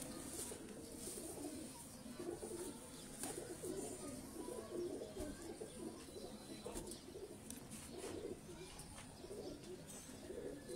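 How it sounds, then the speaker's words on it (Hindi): Old Missa jaldar pigeons coo in low repeated murmurs, steady and fairly faint against a busy outdoor background, with light chirps mixed in. "ये पुराने मिस्से जालदार कबूतर हैं जी"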